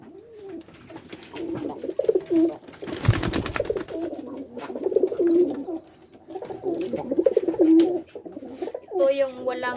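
Pigeons coo repeatedly up close in low throaty phrases, with a loud wing flutter partway through and a voice speaking at times.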